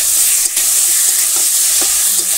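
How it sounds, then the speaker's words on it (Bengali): Cumin, ginger and chilli paste frying in a pan in a village kitchen, a loud, dense sizzle running throughout with a few soft scrapes of stirring. "এবার জিরে আদা লঙ্কা বাটাটা দিয়ে দিলাম। দিয়ে এখন এটা নাড়বো। এটা কষাচ্ছি"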